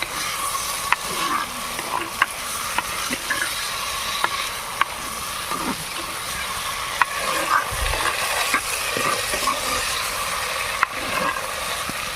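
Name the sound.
adding fish pieces to sizzling tomato pan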